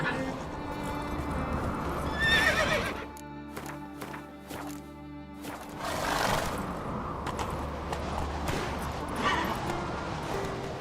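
Roach the horse from Witcher 3 neighing and galloping, loud whinnies over rhythmic hoofbeats, with a brief musical passage in the middle and a person talking at times.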